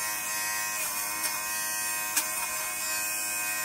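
Electric lint remover running steadily, a close, continuous motorized buzz with a couple of faint clicks as it catches fabric fuzz, with no talking.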